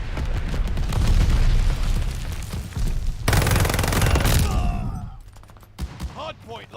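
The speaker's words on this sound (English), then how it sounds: "Tossing a sticky bomb" Sticky bomb blast and gunfire in Call of Duty Vanguard: a loud, continuous wash of rapid shots and booms fills the first five seconds, then the barrage drops off, leaving scattered, fainter pops and game sounds.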